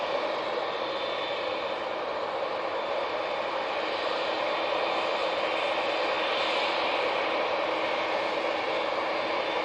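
A TUI airliner on approach to land at Manchester Airport gives a steady broadband jet roar, moderately loud and unbroken, with no voices.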